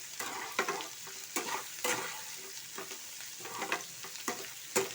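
Lentil dumplings (bori) frying in oil in a pan, a steady sizzle broken by repeated scraping stir strokes every second or so, fairly close with no talking.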